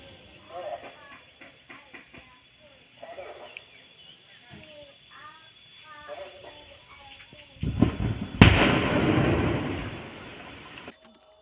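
Quarry blasting near Wadas village: after a stretch of quiet, broken background sounds, a sudden loud deep rumble erupts, with a sharp crack at its peak, then roars on and slowly fades over several seconds.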